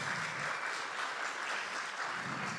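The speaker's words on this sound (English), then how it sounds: "we're going to save one more special round of applause to Susan Rose Nickel" A live audience gives a steady, full round of applause at a music event, with dense, continuous clapping throughout.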